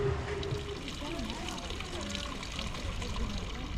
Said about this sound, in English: So here's the water from St Anne's Well at Buxton.